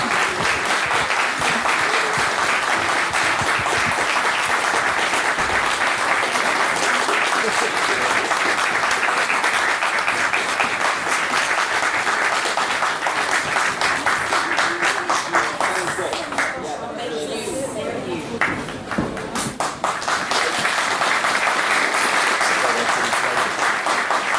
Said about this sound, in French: Je vais vous demander encore une fois d'applaudir nos deux invités surprises.